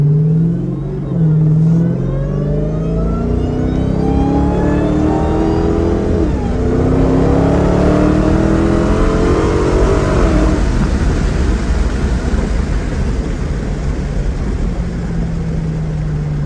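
A Dodge Challenger Hellcat engine roars loudly and continuously, rising in pitch through repeated revving sweeps over sixteen seconds with a deep rumbling undertone.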